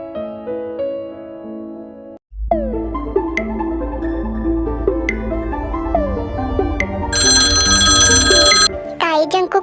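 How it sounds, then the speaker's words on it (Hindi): A phone rings with an incoming call, a repeating electronic ringtone melody over a steady low hum, with a brighter tone layered near the end. "ताई जंगकुक को फोन करती है"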